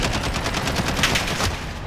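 Rapid gunfire from a first-person shooter match in Call of Duty: Modern Warfare, a dense burst of close, loud shots over about two seconds with no talk.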